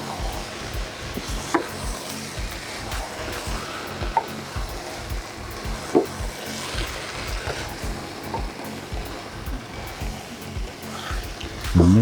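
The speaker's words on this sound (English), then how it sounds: "Then you stir in thoroughly, mixing everything just together." Jambalaya rice mixture with banga and coconut milk is stirred in a pot, a continuous soft bubbling and scraping with occasional louder knocks of the spoon against the pot.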